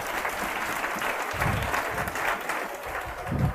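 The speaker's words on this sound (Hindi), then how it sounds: "इनके लिए एक बार जो ताली बजाइए" Audience applause for a student's well-written answer in a classroom, a steady crowd clapping throughout with no speech over it.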